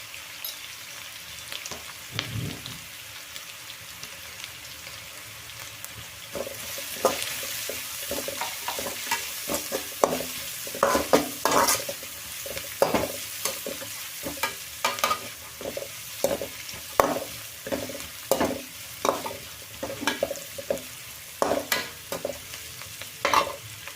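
Onions fry in a pan for a squid gravy. Quiet sizzling is joined by repeated scraping stirs of a spoon against the pan, coming in a brisk, irregular rhythm up close.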